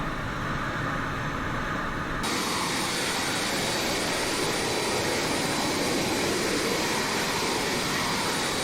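Steady, loud jet engine roar of a T-45C Goshawk trainer flown low-level in MSFS2020, continuous broadband rumble and hiss with a slight shift in tone early on, no talking.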